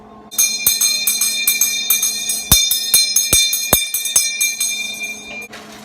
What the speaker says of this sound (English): Let me ring the bell for Seth